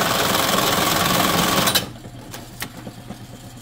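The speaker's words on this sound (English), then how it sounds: "then I put it in the bartacker" A bartack sewing machine rapidly stitches a WWII M-1 helmet chin strap, giving a loud, fast mechanical chatter for nearly two seconds that stops abruptly, followed by a few quiet clicks and handling sounds.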